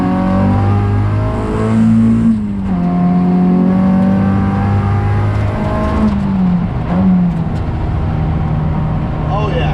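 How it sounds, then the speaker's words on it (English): Honda H22 engine in an EK chassis with nitrous pulling at wide open throttle, a loud droning note rising through the revs with a gear shift and falling pitch midway, heard from inside the car while someone speaks briefly. "when we go wide open throttle, we are going to have nitrous"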